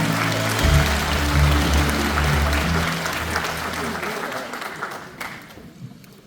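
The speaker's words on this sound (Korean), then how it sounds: "여러분 뜨거운 박수로 맞이해 주시기 바랍니다" A crowd applauds at a party convention in a convention hall in Chungbuk to welcome a speaker. Loud sustained clapping runs over a low droning hum, then thins and fades toward the end as a few scattered claps remain.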